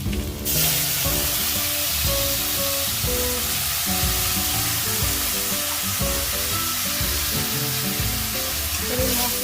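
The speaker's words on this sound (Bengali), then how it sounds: "ধনেটা হয়ে গেছে, ভালো করে লাল করে ভাজা হয়ে গেছে। এবার আমরা মশলাটা দিয়ে দেবো।" Coriander and spice paste fry in hot oil for a fish curry, a loud steady sizzle running throughout with the occasional stir, no voices.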